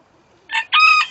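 Backyard hens let out a short squawking cluck, followed by a rooster's loud, close crow that holds steady for most of a second.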